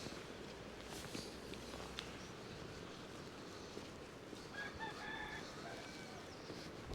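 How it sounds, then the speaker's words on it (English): A cockerel crows faintly in the distance near a Lake District village, heard over a steady wash of rain and outdoor ambience on a wet walk. "I'll be able to hear the cockerel."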